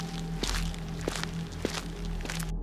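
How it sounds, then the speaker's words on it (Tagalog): Slow, evenly spaced footsteps outside a house in a horror story sound effect, four soft thuds over a low steady hum, close and alone. "narinig nila ang mga yapak sa labas ng bahay."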